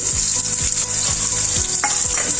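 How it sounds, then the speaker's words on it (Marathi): Chopped boiled potato added to a hot pan for aloo palak, a steady loud sizzle with repeated low scraping stirs at a regular pace, no voices. "उकडून घेतलेला आलू आपण बारीक चिरून घेतलेला आहे आणि तो घालणार आहोत"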